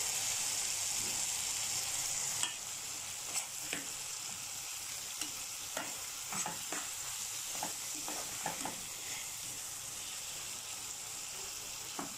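A spoonful of tomato paste is stirred into a frying mixture in a pan for a quick pasta dish, a steady sizzle broken by intermittent spoon scrapes and taps, fairly quiet and with no speech.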